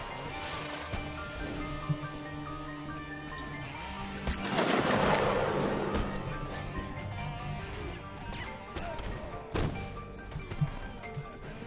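Musket fire in Mount and Blade: Full Invasion 2 during a Seven Years War versus Native Indians and Aztecs battle, with scattered loud cracks and crashes over battle noise and a louder volley near the middle.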